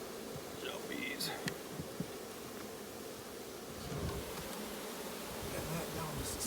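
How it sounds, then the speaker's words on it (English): A soft, continuous buzzing of many honey bees hums close by at a hive, with faint rustling and brief quiet sounds over it. "Bees."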